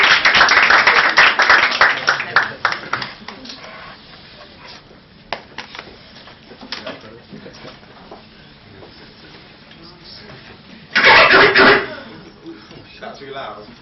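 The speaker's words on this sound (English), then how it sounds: "So make some noise for Connie." A crowd at a turntablism set claps and cheers, with a strong burst at the start that fades, then a second sharp burst near the end, while a voice talks over the room between them.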